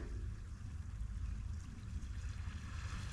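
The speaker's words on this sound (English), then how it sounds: "Do you like the sound of the ocean?" Ocean water washes against the shore at Fort Popham in Phippsburg, Maine, a constant low, rumbling surge heard up close without voices.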